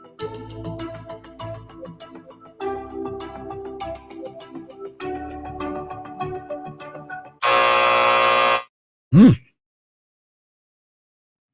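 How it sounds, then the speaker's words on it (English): Game show buzzer: after a stretch of upbeat music, a loud, flat, harsh blare sounds for about a second, followed by a brief swooping electronic tone and then silence. "Nicole Walker and Stacey Ann Brown at the buzzer."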